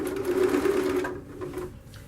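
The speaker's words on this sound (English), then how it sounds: "and start sewing." A sewing machine stitching the side of a boxed pillow or cushion, a close, steady mechanical whir for about a second that then drops away to quieter handling sounds.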